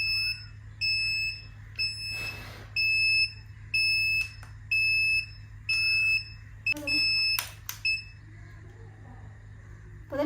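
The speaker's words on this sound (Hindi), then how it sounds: "ये बीप करना बंद नहीं करा रहा।" An Urban Yog electric hair curler keeps emitting loud, high electronic beeps in regular bursts of about half a second, repeating steadily over a low background hum, with a couple of short clicks near the end.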